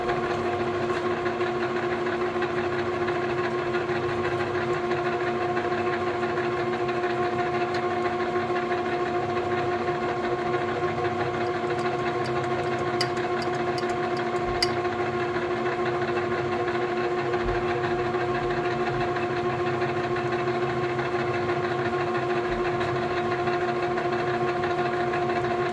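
A homemade burnishing tool runs at a slower gear, giving a steady mechanical whine with strong sustained tones over a constant hiss, unbroken and close, with faint clicks midway and no talk.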